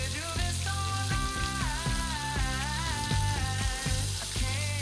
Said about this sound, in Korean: 노릇하게 튀기는 빵에